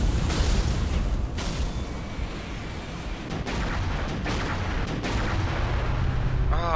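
Gunfire in the Halo Reach video game, with several loud booming shots over a dense, rumbling battle din, some cracking close by and others thudding further off.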